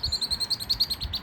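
A bird calls in a patio herb garden, giving a quick, even series of high chirps about ten times in just over a second, clear and alone with no voices.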